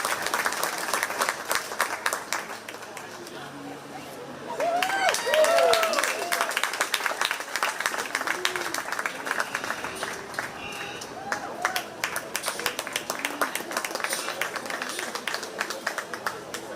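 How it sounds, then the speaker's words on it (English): Crowd applause for 4-H kids at a county fair sheep and goat show, a steady wash of clapping that swells after a few seconds, with voices and a talking announcer mixed in throughout. "Let's give all these kids a round of applause"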